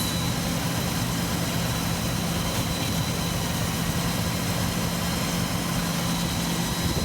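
A Rover SD1 idles steadily with a new exhaust fitted, a smooth, continuous low rumble that stays close and loud throughout, with no voices.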